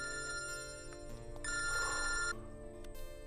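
A telephone rings in a Hindi-dubbed South Indian film, a bright electronic ringing repeated in short bursts at moderate volume over a faint background.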